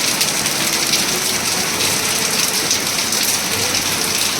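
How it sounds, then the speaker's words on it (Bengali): Heavy torrential rain pours outside at night, a loud, dense and unbroken hiss that continues steadily throughout with no voices. "মুষলধারে বৃষ্টি।"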